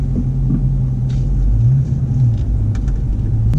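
A 2015 Dodge Charger R/T Scat Pack pulls away, its V8 giving a steady, heavy low rumble that holds loud and even throughout, with no talking.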